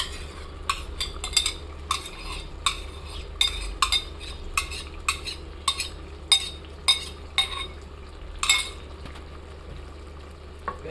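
A spoon stirring chicken biryani marinade of yogurt, tomato sauce and green chili in a bowl, producing a steady run of regular metallic clinks and scrapes, close and clear with no talk.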